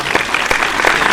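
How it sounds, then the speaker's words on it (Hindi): A brief burst of audience applause at a Hindi kavi sammelan poetry gathering, dense clapping at moderate loudness with one sharper clap standing out. "ढंग से ताली वाली बजाओ"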